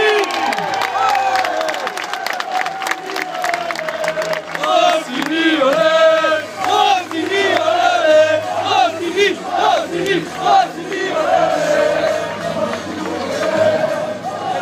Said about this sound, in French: Les applaudissements suivants pour Giuseppe Rossini